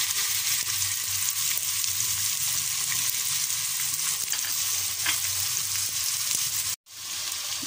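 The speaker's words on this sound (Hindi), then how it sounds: "ये इसमें ऑनियन मैंने डाल दिया है, और इसको हम सौते करेंगे" Chopped onion sautés in hot oil in a pan while cooking a restaurant-style mixed vegetable sabzi, giving a steady, close sizzle with faint stirring scrapes throughout, then a brief cut near the end.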